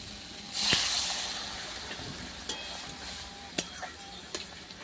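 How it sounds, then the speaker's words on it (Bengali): Water is poured into a pan of frying okra and spices, setting off a loud burst of hissing that fades into a softer sizzle, with a few sharp clicks and taps after it. "এবার আমি পানি দিয়ে দেবো"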